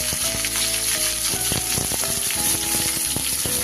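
Spiny gourd frying with slit green chillies in a pan gives a loud, continuous close sizzle, with scattered scraping taps from stirring and no talking.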